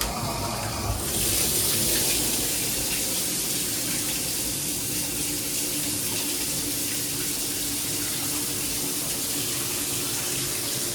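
Hot water gushes from a household faucet during a home inspection, a steady, loud rushing flow that starts abruptly and continues without letup, with no voices over it.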